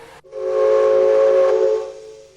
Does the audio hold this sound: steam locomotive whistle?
yes